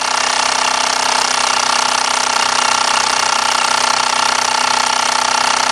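A Mamod SE2 toy steam engine running flat out at full throttle, a loud, steady, rapid mechanical chuffing and whirring that holds constant and close throughout.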